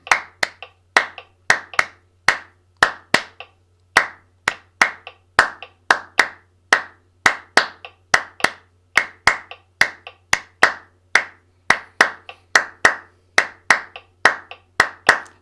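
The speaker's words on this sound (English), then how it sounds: "that's a bit of concentration and clapping to get us started" Crisp hand clapping in varied rhythmic patterns during a music warm-up session, sharp claps repeating steadily alone for about fifteen seconds over a faint low hum.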